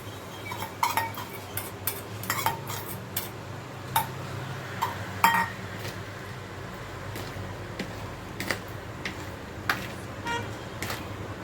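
A spoon scrapes and clinks against a pan as potatoes are mixed, with irregular sharp taps spread across the clip over a low background hum.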